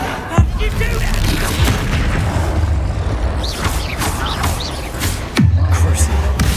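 Incendio fire spell cast in Hogwarts Legacy, a dull low boom at the start and a second heavy boom near the end, over a steady bed of game noise with scattered crackles and whooshes.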